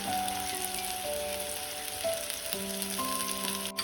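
Fried onions sizzling steadily in a pan as ginger-garlic paste and chili powder go in, a constant crackling hiss with soft music tones in the background.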